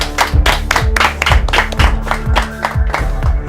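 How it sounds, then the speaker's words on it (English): A studio audience at a children's quiz game show claps loudly in a brisk, rhythmic round of applause, sharp individual hand claps repeating close by. "A round of applause."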